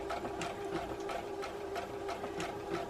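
A sewing machine blanket-stitches an appliqué Dresden plate, running at a slow, steady pace. Its motor hums continuously under a regular, rhythmic needle tapping, close and fairly loud, with no talking.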